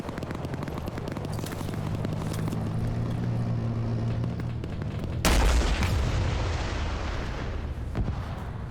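A DShK heavy machine gun fires in a video game, sustained deep rattling bursts with booming impacts, growing louder and harsher partway through.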